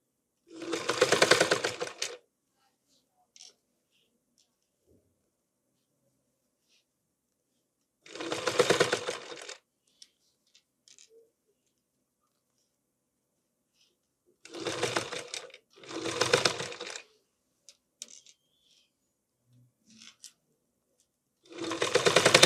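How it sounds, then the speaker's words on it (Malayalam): Sewing machine stitching a bib cross piece, running in four short bursts of rapid mechanical whirring, about a second or two each, separated by quiet pauses. "ഈ ഗ്യാപ്പിലൂടെ ഈ ഒരു അറ്റത്തിലൂടെ നമുക്ക് സ്റ്റിച്ച് ചെയ്ത് കൊടുക്കാം."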